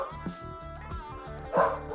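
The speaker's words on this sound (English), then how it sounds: "There are dogs barking next door" Dogs barking next door, a string of several sharp yips and barks in quick succession, somewhat muffled as if through a wall, with a louder burst near the end.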